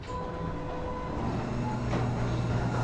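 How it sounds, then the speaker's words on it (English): A garage door's warning alarm at a 50-year-old house gives off steady electronic beeping tones, fairly clear for the first second or so, then fading into a low background hum. "It's actually got a warning sound."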